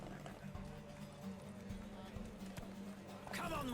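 Roach the horse galloping in The Witcher 3, a faint steady clip-clop of hooves running under a continuous low background hum.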